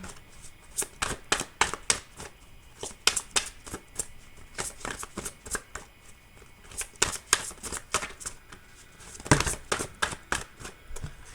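Tarot cards being shuffled and handled during a zodiac reading, a steady run of crisp, close riffling flicks and snaps in repeated bursts, with no talking.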